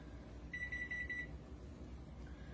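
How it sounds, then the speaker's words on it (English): A kitchen microwave oven beeps once, a single sustained electronic tone under a second long, then a faint second beep at the end, over quiet background hum. "My microwave's beeping at me"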